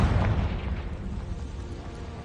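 A Confringo blasting spell bursts in the Hogwarts Legacy video game, a loud, deep rumbling explosion that fades slowly over about two seconds.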